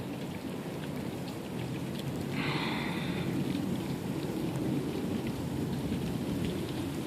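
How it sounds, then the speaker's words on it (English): Steady rain pours down in the video game Jurassic Island, a dense continuous hiss with a low rumble beneath and a faint chirp midway. "The rain starts to pick up"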